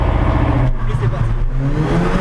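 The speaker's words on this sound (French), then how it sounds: "petite démonstration à l'intérieur du A45, du launch control" Mercedes-AMG A45 pulling hard on a launch-control start, heard from inside the cabin: a loud, steady engine roar with rising revs fills the whole stretch, with a slight dip partway through.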